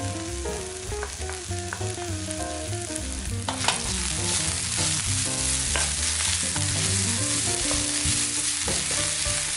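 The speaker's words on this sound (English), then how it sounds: "stir fry the finely chopped onion until it gets nicely clear" Finely chopped onion and shiitake stir-fry in a hot pan, making a steady loud sizzle with scraping stirs while gentle background music plays and no one speaks.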